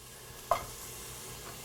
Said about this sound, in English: I'm going to use 2 pans here, and I'm going to put in some onions in one.